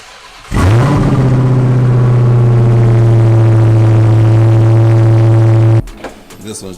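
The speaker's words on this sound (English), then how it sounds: "now we have a stock red eye exhaust." A car engine fitted with a stock Red Eye exhaust revs up loudly and holds a steady, droning high-rpm roar for about five seconds, then cuts off abruptly, leaving faint background noise.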